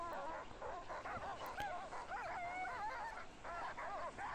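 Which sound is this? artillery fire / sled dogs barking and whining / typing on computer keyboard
sled dogs barking and whining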